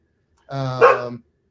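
A single loud, close dog bark, a drawn-out, hoarse woof lasting under a second, is heard alone before silence returns.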